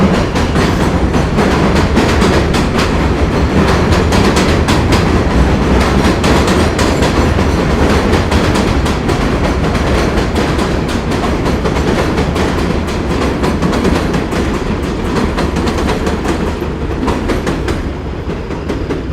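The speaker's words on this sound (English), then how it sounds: "And here comes the train again." A New York City subway train in Brooklyn rumbles past close by, its wheels clacking steadily over the tracks in a loud, continuous roar with no voices.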